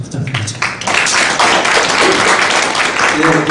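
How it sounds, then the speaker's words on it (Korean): Audience applause at the close of a 2017 Southeast Asia trends symposium, loud sustained clapping from a crowded hall that swells after a brief start and continues steadily throughout. "다시 한번 큰 박수 부탁드립니다"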